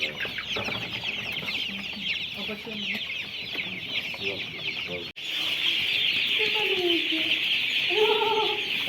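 Hens and broiler chickens cluck and chatter continuously in a busy, close-up coop, with a brief voice speaking partway through.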